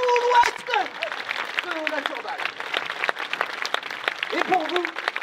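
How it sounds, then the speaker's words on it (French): An audience at the Festival de la Saint-Loup in Guingamp applauds dancers with a dense, steady patter of clapping, while a voice talks over the crowd and cheers rise in the mix. "continuez à applaudir bien fort les plus grands danseurs de tout l'Ouest"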